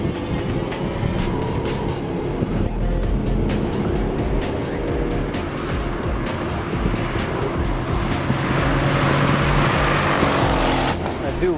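A Mercedes-AMG GL 63 SUV lapping a racetrack, its engine droning steadily throughout with rising revs, a constant loud mechanical roar under a faint voice.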